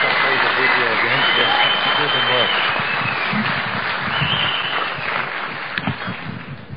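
An audience at a formal reception and dinner for Pope Tawadros II in Melbourne applauds to greet Bishop Suriel. The broad, sustained clapping fills the hall and slowly fades, with voices heard over it.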